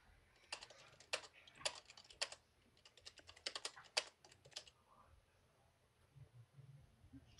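Keystrokes on a computer keyboard during a Skype call, heard as close, irregular bursts of rapid clicking with short pauses, thinning out to near silence toward the end.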